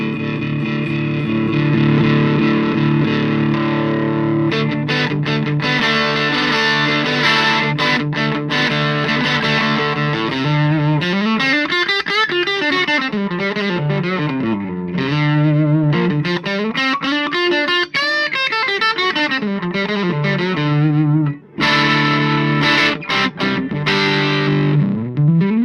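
Heavily distorted electric guitar through a 40-watt tube amp at high gain with the master turned up: high-gain crunch, sustained chords and bending melodic lines, loud and continuous for the whole stretch.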